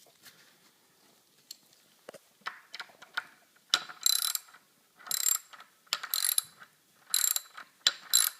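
Longboard wheels being screwed back onto the axle with a tool: quiet stretches give way to bursts of sharp ratcheting clicks, repeated in several rapid clusters, close and fairly loud, with no talking.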